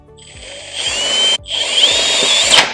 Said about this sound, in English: So I've got my Phillips bit in there. And this is a self-tapping screw.